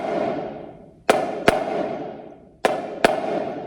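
Marching snare drum hits come in close pairs, two sharp cracks twice, each pair uneven from an upstroke started too early, with washy cymbal-like ring decaying between them.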